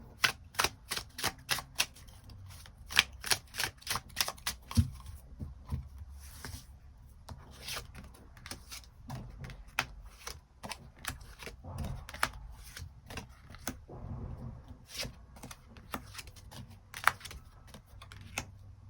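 Tarot cards being shuffled and drawn by hand, a quick run of sharp, dry snapping riffles and flicks, close and fairly soft, sometimes in fast clusters and sometimes spaced apart, with no talking over it.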